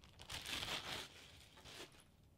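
Plastic crinkling and rustling close by, in bursts that swell and fade over a couple of seconds.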